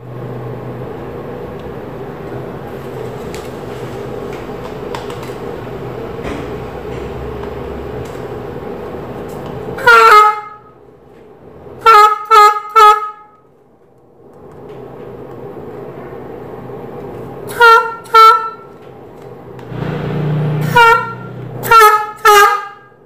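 A homemade New Year's trumpet made from a used plastic bottle blares in several short, loud honking blasts, some doubled or tripled, between stretches of rumbling background noise.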